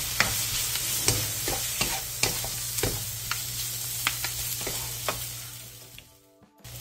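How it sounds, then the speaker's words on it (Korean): Crab sticks lightly stir-fried in a pan, with a steady close sizzle broken by regular spatula taps and scrapes about once a second, ending as the sound drops away, no talking. "그 다음 게맛살을 넣고 1분 정도 가볍게 더 볶아주세요"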